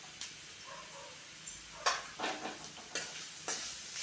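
Turmeric being stirred into frying pudina rice in a pan, soft sizzle with several scraping stirs at irregular intervals, quiet and close.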